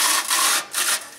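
The ash pan of an Ashland Deluxe Amish wood cook stove scrapes and slides out of its slot, a close, dry metallic rubbing in two strokes with a brief pause between.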